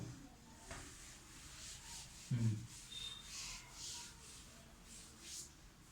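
Writing is rubbed off a board during a probability lesson, producing faint, soft brushing strokes with one brief louder scuff, all quiet and close.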